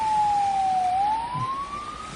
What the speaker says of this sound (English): It's just a siren.